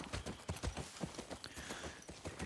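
Horse hooves clip-clop in a steady trotting rhythm while riding through a setting in The Last of Us Part 2, close and fairly quiet, with faint ambience and no talk.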